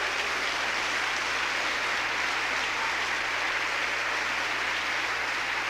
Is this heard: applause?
yes